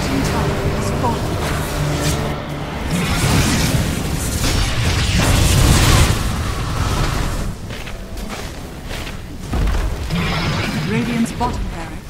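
A booming barracks explosion in the Dota video game rises out of dense battle noise, with crashes and pops around it and a voice speaking over the din.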